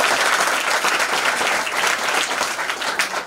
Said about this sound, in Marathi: तिच्यासाठी जोरदार टाळ्या उद्या